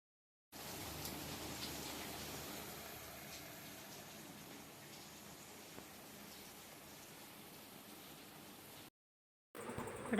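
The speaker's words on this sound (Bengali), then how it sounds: "দেখুন বৃষ্টি হচ্ছে, আজ সারাদিনই প্রায় বৃষ্টি হচ্ছে।" Heavy rain falls outside in a steady, fine hiss at moderate distance, unbroken and with no talk, cut by a short silent gap near the end.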